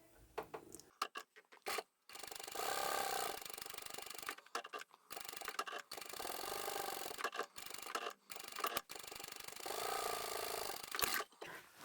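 Domestic sewing machine top stitching along the flap of a fabric foldable tote bag at a long stitch length, bursts of steady mechanical whirring with brief pauses and rustling fabric handling between runs.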